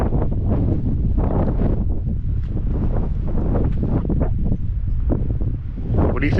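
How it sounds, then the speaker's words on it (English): Cold wind blows at a high mountain viewpoint above Los Gigantes on Tenerife. It buffets the microphone with a loud, continuous, gusty low roar that lasts the whole time. "It is windy up here, cold and windy."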